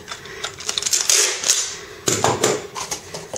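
Packing tape being pulled off the roll and pressed onto a cardboard box, with crackly ripping bursts and sharp ticks coming close and fairly loud in two main pulls, and no voices.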